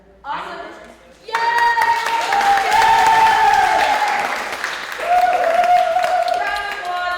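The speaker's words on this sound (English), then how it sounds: "Round of applause for Caleb and their amazing topic." A presentation-party audience applauds a presenter named Caleb. After a brief quiet opening, loud, dense clapping bursts in with some cheering voices mixed in, and it carries on strongly to the end.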